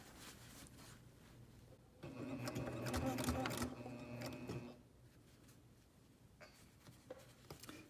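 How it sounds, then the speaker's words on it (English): A sewing machine with a needle-down function hums and stitches in a rapid mechanical burst for a couple of seconds while basting a Sandhill Sling bag, then stops, leaving quiet handling noises. "if your sewing machine has the needle down function"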